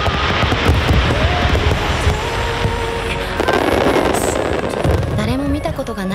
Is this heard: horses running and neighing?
no